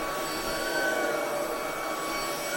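A Shark ionFLEX cordless vacuum cleaner running on turbo mode gives a loud, steady high-pitched whine with a hissing airflow roar, continuous and close, much like a jet engine.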